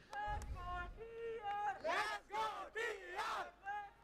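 Fans cheer and shout at a Valorant esports playoff match between Velocity Gaming and True Rippers, the crowd swelling in several loud bursts of voices over about four seconds.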